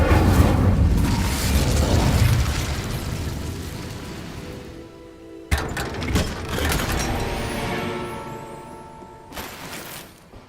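The Incendio fire spell is cast in Hogwarts Legacy, a loud roaring whoosh of flame that fades over several seconds, followed by a sharp burst and another rumbling blaze.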